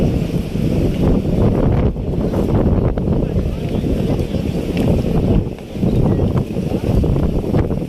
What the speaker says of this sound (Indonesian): digoncangi dengan angin yang kencang